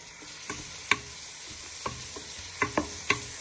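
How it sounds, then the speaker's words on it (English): Picadillo ingredients are stirred as they fry in a pan, with a soft low sizzle broken by six or so sharp spoon knocks and scrapes against the pan at uneven intervals, close but fairly quiet. "You give this a good stir for a few minutes so they go nice and soft and bring out flavour"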